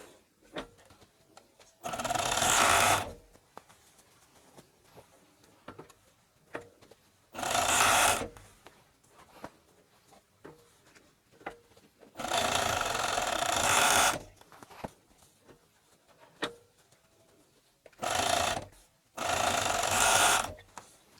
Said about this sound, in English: I'm going to do it on my overlocker.